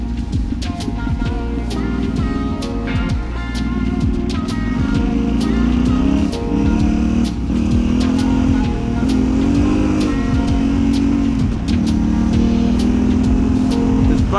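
A Yamaha Tenere 700 motorcycle rides onto gravel, its engine drone steady and loud with slight pitch rises under strong wind rush, with faint crunching ticks from the ground.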